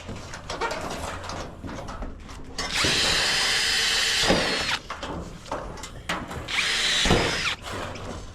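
A power drill with a 1/8 bit bores through galvanized metal roof sheeting in two loud, whining bursts, separated by clattering handling noises and quieter work sounds.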